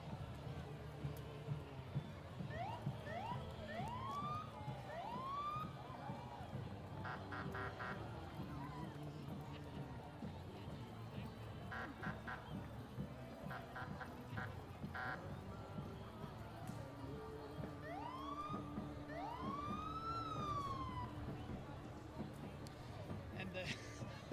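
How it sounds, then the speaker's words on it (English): A Wickham Tractor Company tractor in an Independence Day parade gives off rising and falling siren whoops, repeated in bursts over a steady crowd murmur and street noise, while someone talks. "The tractor making siren noises, as you can hear and see, is from the Wickham Tractor Company."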